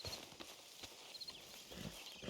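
Horse hooves clip-clop at a walking pace in the Red Dead Redemption 2 video game, a few soft irregular footfalls at moderate distance over a steady ambient background.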